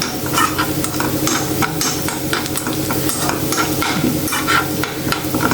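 Spinach thoran sautéing in a pan, a loud continuous sizzle broken by repeated scraping and stirring strokes at an uneven rhythm, close and without talk.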